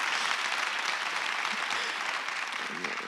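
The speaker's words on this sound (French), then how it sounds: "Ça mérite un peu d'applaudissements quand même aussi" Audience applause at a conference talk, a steady wash of many hands clapping throughout, moderately distant and unbroken.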